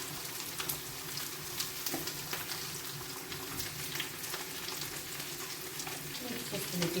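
Whole chicken livers frying in a pan, a steady close crackling sizzle with scattered sharper pops and a few faint utensil scrapes, with no talking over it.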